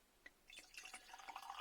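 Fizzy, unfiltered Welsh Mountain Redstreak cider from 2020 poured out of a bottle into a glass, a quiet close trickle with small splashes and a bubbling fill that grows steadier over under two seconds.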